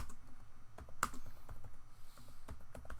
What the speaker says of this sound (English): Typing on your computer?